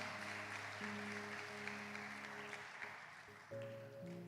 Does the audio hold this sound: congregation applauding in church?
yes